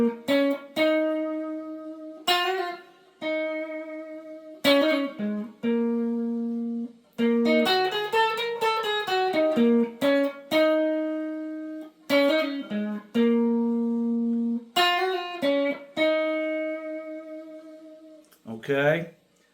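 A clean electric guitar plays a saxophone melody, a sustained, horn-like line with held notes, a few quick runs and short gaps between phrases, close and clear.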